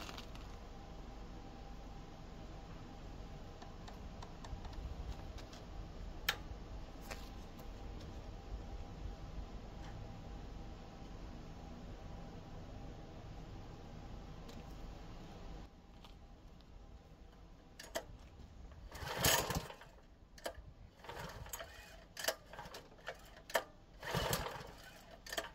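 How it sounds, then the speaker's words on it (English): The gasoline engine of a Craftsman 3000 PSI pressure washer idles with a steady, faint mechanical ticking rumble, then gives way near the end to louder irregular bangs and clatter. "The engine started right up, and sounds good."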